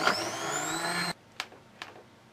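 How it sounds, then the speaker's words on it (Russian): A blender purees a homemade plum ketchup mixture with garlic, a loud steady whirring hum with a rising pitch that cuts off abruptly after about a second, followed by two faint clicks. "Добавляю чеснок в массу и надо всю массу пробить блендером."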